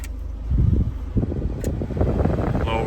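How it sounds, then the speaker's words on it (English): Car air conditioning blower fan running with the engine on, a steady broadband whoosh of moving air with low rumble, close and continuous. "Blowers are blowing."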